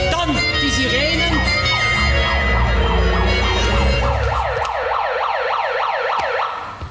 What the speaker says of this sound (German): Also wir hörten Rufe nach der Polizei, dann die Sirenen.